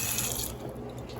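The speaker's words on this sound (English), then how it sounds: "That's the dishwasher y'all here." Dishwasher running in a home kitchen, a continuous watery spraying and sloshing wash, steady and close throughout, with no talking.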